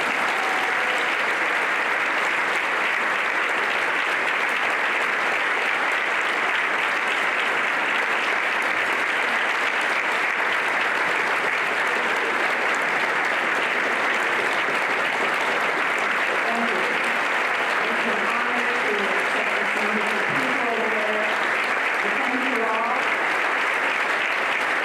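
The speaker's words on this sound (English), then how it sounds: "Thank you all for coming in for this wonderful applause." An audience at a 2018 business awards ceremony applauds steadily and loudly for a long stretch, a dense even wash of clapping with faint voices surfacing toward the end.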